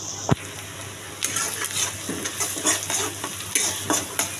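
Onion, cinnamon, cardamom and bay leaf drop into hot oil with a sharp clatter, then sizzle and crackle close by while a utensil stirs and scrapes the pan in short bursts.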